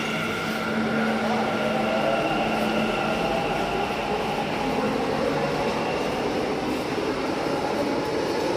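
A Bangalore metro train runs with a steady, loud rumble and whine from inside the carriage, continuous throughout with faint rail clatter and no clear talk.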